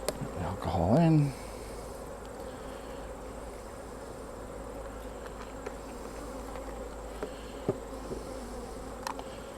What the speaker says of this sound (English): Field bees have flown out.